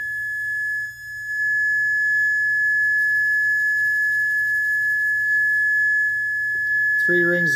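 A circular Chladni plate driven by a 1,710 Hz sine tone emits a steady, piercing pure tone that holds throughout, with a brief voice speaking near the end.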